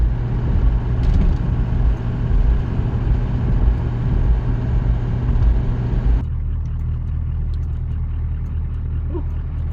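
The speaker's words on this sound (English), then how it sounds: "And it's about to come off a high idle here pretty soon." Buick diesel engine running near and loud at high idle for about six seconds, then dropping to a lower, quieter steady idle.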